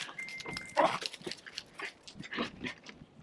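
Two small dogs, the pups Nellie and Munchie, give soft whimpers and yips close by at low volume, several short cries scattered unevenly.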